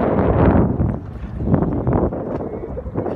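Strong wind gusting around a Merry Fisher 1095 motorboat riding at anchor off Ostend, a loud, steady roar of buffeting broadband noise that swells and eases throughout, with no talk over it.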